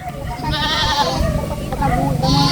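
A goat bleats loudly and close by, several wavering cries in quick succession, with a second voice of bleating overlapping near the end.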